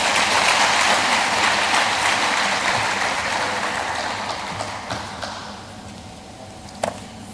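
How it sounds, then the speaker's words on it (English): Applause from guests at an international academic colloquium, a dense, loud wash of many hands clapping that slowly fades over several seconds, with a few isolated claps near the end. "please give yourself a resounding round of applause"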